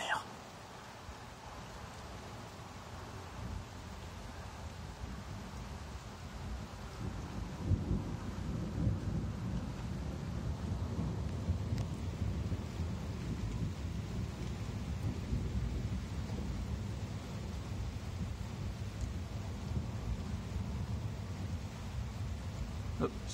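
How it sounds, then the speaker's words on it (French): Continuous summer rain hisses steadily while low thunder rumbles roll through, swelling around the middle and lingering in the background. "Il faut laisser écouter le tonnerre."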